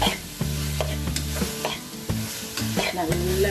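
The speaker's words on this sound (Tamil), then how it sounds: "நல்ல அந்த மிளகாத்தூள் கரம் மசாலா தூள் எல்லா வாசனையும் போகிற அளவுக்கு வதக்கிக்கோங்க" Chili powder and garam masala being stirred and sautéed in hot oil for pav bhaji, a steady sizzle with repeated scraping stir strokes close up, no voices.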